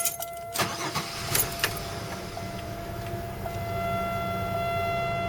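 A cold car with an idle problem turns over with a few sharp cranking bursts, then catches and settles into a steady, close idle hum that grows slightly louder toward the end.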